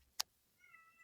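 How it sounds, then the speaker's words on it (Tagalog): A pet cat meows once, faint and short, indoors, coming just after a sharp click in an otherwise quiet room. "pasensya na po sa ingay ng pusa ko"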